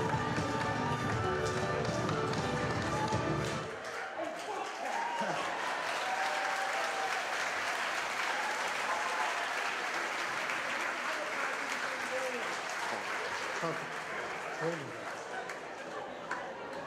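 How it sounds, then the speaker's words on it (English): Theatre audience applauding the cast of a stage show, a loud, sustained roar of clapping with some cheering. Music plays under it at first, then stops while the ovation continues. "Give the, all the cast a huge round of applause, please."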